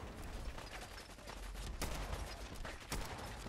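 Gunfire in Fallout 4 gameplay: a dense, continuous rattle of shots with a couple of sharper blasts standing out, heard at a modest level without speech.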